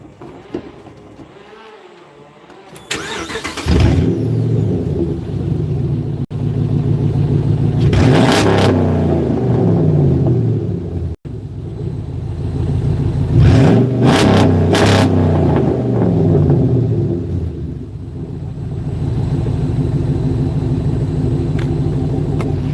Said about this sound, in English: a loud truck.